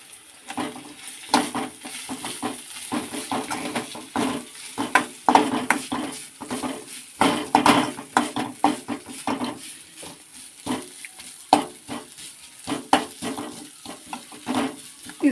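Raw corn kernels sizzle and fry in a pan while a utensil scrapes and stirs them in irregular bursts, close and moderately loud, with no speech.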